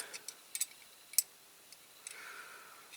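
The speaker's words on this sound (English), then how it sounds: "There's that cuckoo clock sound." Faint, sparse ticks and clicks from the mechanism of a restored Dinky Supertoys 20 ton lorry-mounted Coles crane, about a dozen irregular light taps, quiet and close with no speech.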